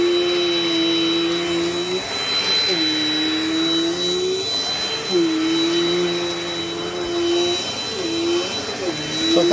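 A Dirt Devil Dynamite Plus vacuum cleaner runs close and loud with a steady high whine and a droning motor that dips and rises as it is pushed across the floor.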